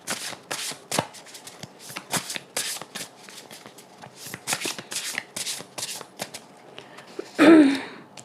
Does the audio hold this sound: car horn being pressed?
no